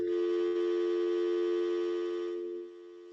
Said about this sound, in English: we got someone's dial tone going on here